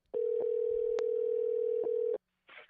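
A steady electronic telephone tone sounds during an outgoing call, a loud sustained beep with brief clicks through it, cutting off after about two seconds before a short burst of noise.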